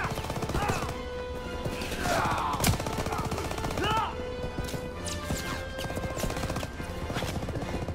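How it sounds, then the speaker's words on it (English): Machine gun fire in a World War II combat scene from Call of Duty WWII, heard as dense rapid bursts mixed with explosions, crashes and shouted voices throughout. "The machine gun is over there."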